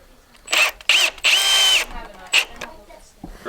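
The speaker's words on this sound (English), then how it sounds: "Drive screws in." A power drill drives screws into rafter boards while framing a ranch ceiling, several loud close whirring bursts of about half a second each, with short pauses between and brief voices around them.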